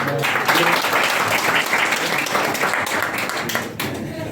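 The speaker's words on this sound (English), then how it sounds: "Can we give her a round of applause?" A room full of people at a personality and leadership development workshop applauding, dense steady clapping that holds for several seconds before starting to thin out.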